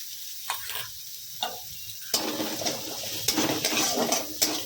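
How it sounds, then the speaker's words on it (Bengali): Finely chopped onion is dropped into hot oil over a cumin seed tempering and sizzles steadily and loudly in a pan, with occasional clinks of stirring. "পেঁয়াজটাকে একেবারে লাল করে ভেজে নেব।"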